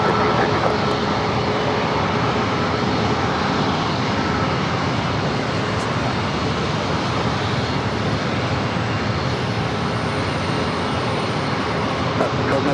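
Jet airliner taking off at San Diego airport, a loud, steady broadband engine roar that holds evenly throughout, with faint radio chatter beneath.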